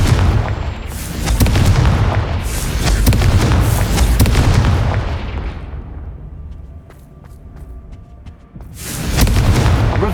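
Booming Confringo spell blasts in Hogwarts Legacy, a series of loud crackling bursts with rumbling tails, fading to a quieter stretch before another strong blast at the end.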